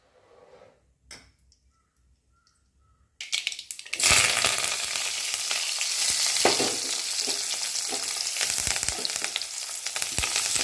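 Ground spice paste for a drumstick curry hits hot oil in a pan and sizzles loudly and steadily, with stirring scrapes throughout, after a few seconds of near silence and faint handling sounds.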